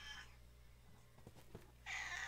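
A cat meows softly indoors, a faint, brief cry over a low room hum with no other sounds.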